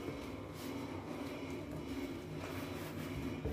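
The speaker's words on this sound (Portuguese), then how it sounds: "Vocês desculpem o barulho da máquina" A domestic washing machine running indoors, a steady broadband mechanical rumble and whir holding at an even level throughout, with no voices.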